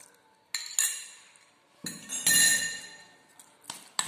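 Chhena being mixed with ghee in a bowl, with a spoon clinking and ringing sharply against the bowl in several separate strikes and scrapes, close and clear, with no voices.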